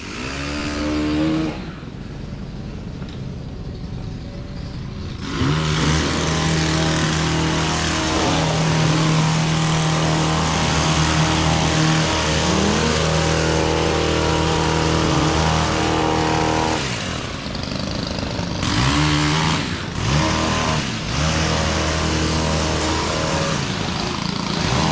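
A truck engine runs as it reverses at an overgrown property cleanup, a steady loud idle-to-low rumble lasting throughout with brief dips in level, no talking.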